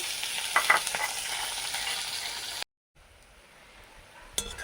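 Onion is added to hot oil already holding bay leaf, dried chilli and whole cumin, giving a steady close sizzle with a few stirring scrapes, then a brief cut to a quieter fry and a sharp tap.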